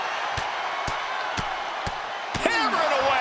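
Heavy slamming body impacts from a wrestling video game match, several sharp thuds at a steady pace over a constant crowd roar, with a louder crash and swelling cheers near the end.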